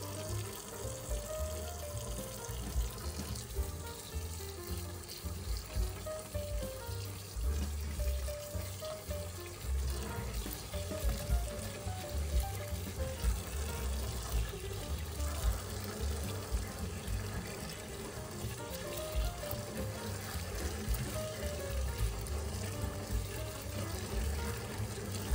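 Salted water being poured into a bowl to soak fresh mushrooms in a home kitchen, a steady continuous splashing and running-water hiss filling the whole stretch with no talk over it.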